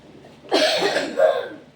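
A person coughs close by: two harsh bursts about half a second apart, loud against a quiet room, with no speech.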